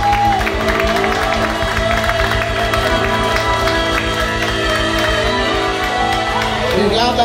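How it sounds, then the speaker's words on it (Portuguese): Audience applause at a São Paulo drag show after a performance, continuous clapping and crowd noise at full strength for several seconds, with music playing underneath. "Aplauso, continua."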